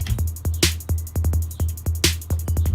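A fast trap-influenced footwork drum beat with punchy kicks and snares, ticking hi-hats and quick rolling hi-hat bursts, with no voices.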